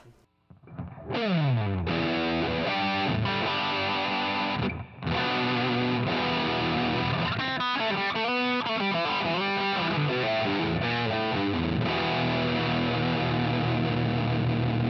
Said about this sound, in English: Let me give you a distorted sound on this.